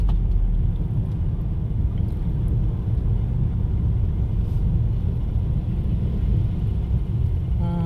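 Evening road traffic on Souphanouvong Road in Vientiane makes a continuous broad rumble of passing vehicles, moderately loud and steady for several seconds, with no one talking.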